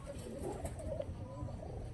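A white-headed Madras pigeon coos softly in a few low, rounded calls, faint over a steady background murmur.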